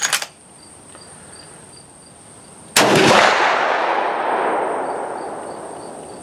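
Marlin 336 lever-action rifle in .35 Remington or .30-30 Winchester fired outdoors, two loud sharp shots with the second echoing and rolling away slowly, over a steady background of chirping insects.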